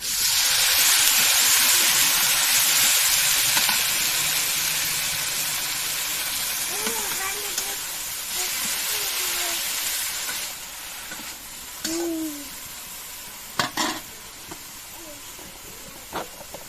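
Chopped, washed leafy greens go into a pan of frying onion, garlic and chili, setting off a loud hissing sizzle that slowly fades to a softer crackle with a few faint clinks toward the end.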